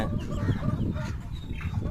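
Chickens on a farm, all sick with colds after heavy rain, cluck and murmur continuously at close range, a dense, steady flock chatter with no pauses.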